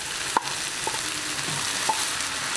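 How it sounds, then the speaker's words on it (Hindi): Half-cooked okra tipped into a pan of minced-meat keema and stirred, a steady frying sizzle with a few light spoon clicks against the pan, close and clear with no voices. "अब मैं इसके अंदर ऐड कर रही हूँ जो मैंने भिंडी हाफ कुक की थी"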